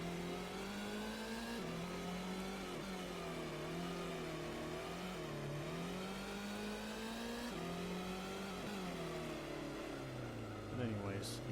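A sports car's engine in the Gran Turismo racing game revs continuously, its pitch rising and dipping with gear changes and throttle, steady and fairly loud throughout a race in an Anglo-Japanese sports car championship.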